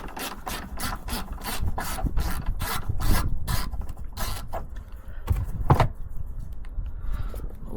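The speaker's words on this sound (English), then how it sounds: "So a bit of a chisel and a bolt extractor. I think that's the best way to get them all out" Metal tools grind and rasp on seized bolts under a Volkswagen T5 van as a chisel and bolt extractor work them loose, giving repeated close scraping strokes in a rough rhythm with a sharp knock near the end.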